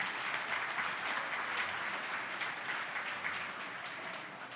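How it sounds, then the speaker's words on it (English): A live-streamed community crowdfunding event for Show of Hands fills with audience applause, steady, dense clapping from a crowd heard at a moderate distance that holds for several seconds and eases slightly toward the end. "please give a round of applause to those friends of Show of Hands that support this"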